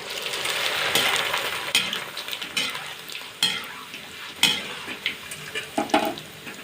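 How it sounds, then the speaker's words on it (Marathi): Corn papdi fries in hot oil for a Diwali chivda snack, a steady close sizzle at first that gives way to a series of sharp stirring and scraping knocks against the pan, with no speech. "तर आता आपण पापडी तळून घेऊया मक्याची पापडी तळून घेऊया"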